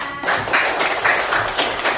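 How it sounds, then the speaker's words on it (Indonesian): Classroom applause from students and teachers at an elementary school lesson, a steady burst of clapping lasting about two seconds with no speech over it. "beri tepuk tangan pada kita semuanya"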